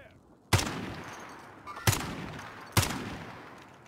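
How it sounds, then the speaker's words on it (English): Gunfire in the battle royale shooter Warzone: three sharp shots spaced over a few seconds, each followed by a long echoing tail, heard in the distance. "There's some shooting somewhere."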